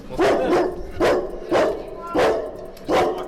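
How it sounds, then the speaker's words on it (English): A dog barks five times in a steady rhythm, each a loud, fairly close woof spaced about half a second to a second apart. "Oh, shit. I'm scared of dogs, man."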